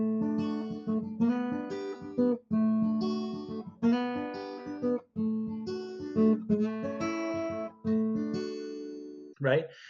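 Clean guitar triads are strummed in a bouncy reggae-style progression of short rhythmic chord bursts with brief gaps, ending on a quick high squeak.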